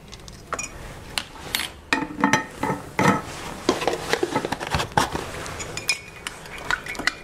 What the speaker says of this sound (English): stir it for a bit, and looks like the sugar all melted